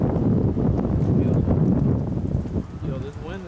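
Gusty wind buffets the microphone outdoors in a garage or driveway where an E46 M3's wheel studs and differential are being worked on, a loud low rumble that runs throughout, easing near the end, with voices talking over it.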